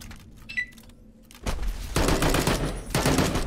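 Gunfire erupts in Fallout: New Vegas, a loud, dense volley of rapid shots following a brief high electronic chirp, continuing in sustained bursts close up.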